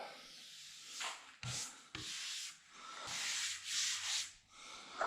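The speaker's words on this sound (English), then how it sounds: "So we'll go ahead and do a little more sanding." Steady back-and-forth strokes of sandpaper rubbing across a butcher block countertop, rhythmic and close, with brief pauses between passes and no talking.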